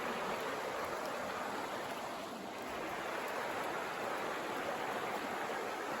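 A creek flows steadily as a broad, continuous rush of water, close and even throughout with no talk over it.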